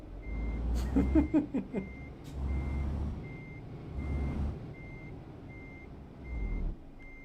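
A truck's reversing alarm in the Euro Truck Simulator 2 driving game beeps in a steady, evenly spaced series, clear and continuous over the low engine rumble as the vehicle backs up, with no speech.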